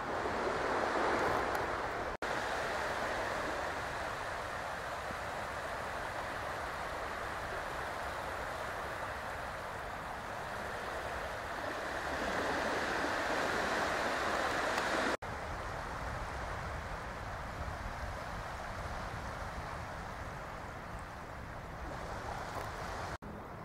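Surf washes steadily onto a large, wide beach, a continuous broad roar of breaking waves with light wind rumbling across the microphone, no voices present.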